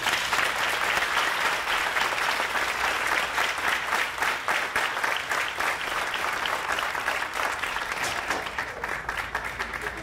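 Sustained, full applause from a graduation ceremony crowd at Buckley Country Day School welcoming a speaker, dense and loud throughout before tapering slightly near the end.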